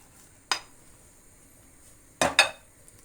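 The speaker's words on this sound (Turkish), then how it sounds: "kızartmış olduğum köftelerimi de arkadaşlar üzerine döküyorum" Two sharp clattering impacts, one early and a double hit later, as fried meatballs are poured into a dish against a quiet background.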